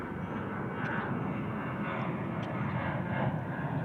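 A British Airways airliner lands at DFW International Airport, its engine roar steady and fairly loud throughout, heard from a planespotting spot with no one talking over it.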